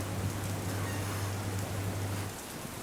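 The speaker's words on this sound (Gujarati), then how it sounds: "ડાંગ જિલ્લામાં આજે વહેલી સવારથી જ ધોધમાર વરસાદ વરસી રહ્યો છે" Heavy rain pours steadily over Dang district during flooding, a dense continuous hiss with a low hum beneath it that drops away near the end.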